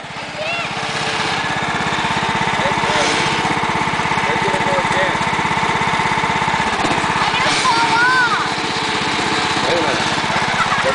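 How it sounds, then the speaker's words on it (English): Lawn mower engine running steadily while a yard is mowed, a loud close buzzing drone that continues throughout, with voices talking over it. "She's mowing the yard."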